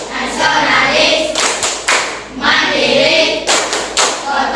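A group of children claps a rhythmic PPK chant in unison, sharp loud bursts of hand claps in patterned groups with pauses between, close by, with some chanting voices mixed in.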